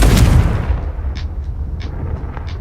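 A fiery spell explosion in the Hogwarts Legacy video game, a loud, deep booming blast up front that decays into a rumbling tail with a few faint crackling pops.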